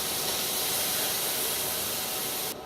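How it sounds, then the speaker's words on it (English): Vegetables dumped into a hot pan for sauteing, giving a loud, steady hiss of sizzling close by that holds evenly before easing off at the end. "I'm going to go ahead and dump these into the pan."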